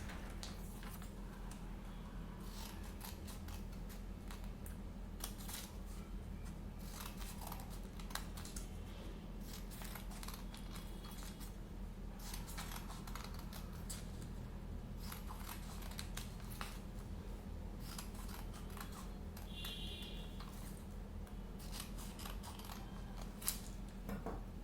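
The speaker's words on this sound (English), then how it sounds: "now take your scissors and now cut thin lines" Scissors snipping thin strips into coloured paper for a fluffy paper flower, giving soft, steady clicks and cuts close up over a low constant hum, with no talking.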